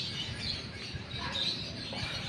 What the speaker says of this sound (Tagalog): Makakarinig ka ng mga huni ng mga ibon.